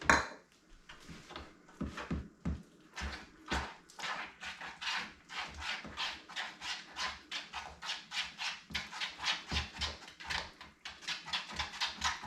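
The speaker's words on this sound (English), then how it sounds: "You just want to mix it till you get all the chunks out. You want a nice smooth batter." Batter is mixed in a bowl with quick rhythmic strokes, a steady series of close clinking and scraping taps against the bowl that quickens toward the end, with no voices.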